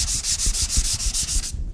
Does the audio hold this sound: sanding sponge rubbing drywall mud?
yes